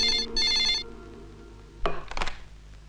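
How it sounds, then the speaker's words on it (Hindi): A telephone bell rings in a quick double burst, bright and close, followed after a pause by clattering handling sounds as the receiver is picked up. "यहाँ से फोन उठा, वहाँ घंटी बजी"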